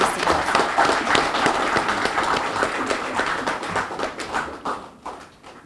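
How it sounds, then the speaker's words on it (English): A crowd at a 2019 Queen's Birthday investiture ceremony claps for several seconds, a dense patter of many hands that gradually thins and fades out toward the end. "A round of applause again for Mr. Dalsey."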